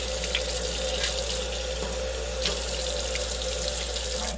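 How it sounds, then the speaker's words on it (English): Hot water runs from a tap over eggshells being rinsed, a steady splashing stream with a few louder spatters and soft knocks, close and alone. "A lot of people will bake their shells. I don't bake them. I just rinse them off"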